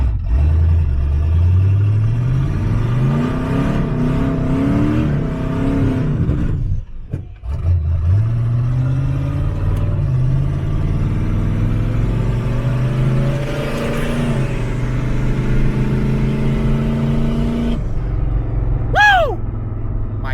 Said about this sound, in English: Just a little first gear burnout rip.